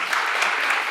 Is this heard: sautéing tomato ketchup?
no